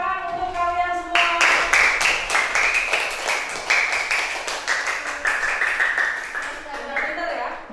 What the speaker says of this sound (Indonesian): terima kasih tepuk tangan untuk kalian semua